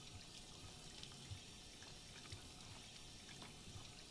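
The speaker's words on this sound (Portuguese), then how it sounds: "esse barulho de água chato aqui que não para" Water runs steadily from a tap in the video game Life is Strange 2, a faint, continuous trickling hiss with soft drips, distant and low in level.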